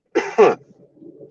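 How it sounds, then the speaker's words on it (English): Two quick, harsh bursts of coughing close up, followed by quiet low rustling and a faint high click at the end. "that's that COVID cough"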